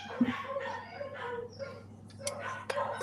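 Dogs give a few faint yips and short barks indoors, scattered and distant-sounding, with a little background chatter.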